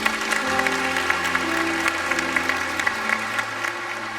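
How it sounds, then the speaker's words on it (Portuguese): Congregation at a Catholic Mass applauds to welcome visitors, a steady patter of many hands clapping over sustained held organ-like tones underneath, fairly even in loudness throughout. "Uma salva de palmas"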